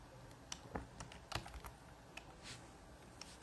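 Someone types on a computer keyboard in short irregular bursts of soft clicks and a few firmer key presses, close by and quiet, with no talk.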